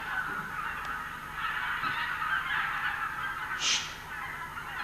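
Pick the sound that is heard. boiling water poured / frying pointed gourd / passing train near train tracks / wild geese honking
wild geese honking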